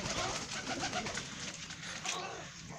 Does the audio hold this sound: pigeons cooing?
yes